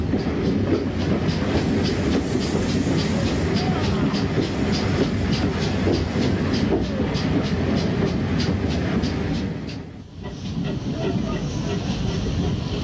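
A 1962 steam-hauled train from Neath rolls into Brecon Free Street Station in Wales, with steady clickety-clack of wheels over rail joints and a hissing background, loud and close, briefly dipping near the end.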